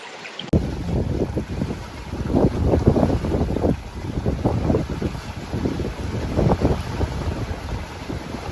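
Wind roars over the microphone aboard a sailboat crossing from Ajaccio, Corsica, toward Alghero, Sardinia, loud gusty buffeting swelling and easing continuously with water noise beneath.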